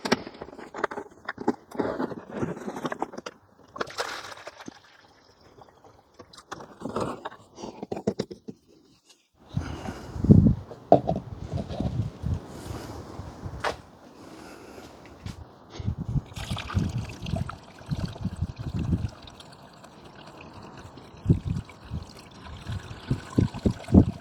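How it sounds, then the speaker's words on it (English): Red X AdBlue fluid is poured from a 10-litre container into a jug and then into a Range Rover Evoque, giving a soft, intermittent liquid trickle and glug mixed with handling noises, fairly quiet and close. "let me pour some of this into my jug and then pour it into the car."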